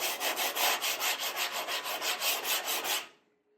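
A washing-up brush scrubs lichen off the bodywork of a Citroen 2CV in quick, even back-and-forth strokes, about five per second, a close bristly rasping that stops abruptly.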